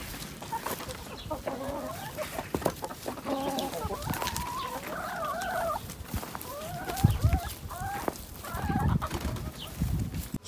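Chickens cluck and a rooster calls in bursts, close by and fairly lively, with scattered rustling and knocks around them.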